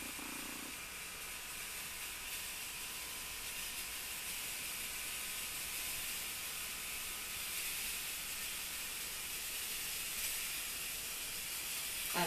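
Steady broadband hiss of steam escaping from a handheld steamer, continuous and fairly loud throughout with no talking.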